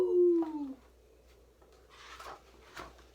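A howl at the moon, a single falling, drawn-out wail lasting under a second, near and fairly loud, followed by faint rustling and soft clicks. It sounds like a dog; a human voice imitating the howl is also possible.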